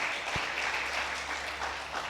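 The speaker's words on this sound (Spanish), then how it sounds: "Denle ese aplauso fuerte al Señor." Church congregation applauding in praise, a steady, moderately distant wash of clapping from many people in a large room.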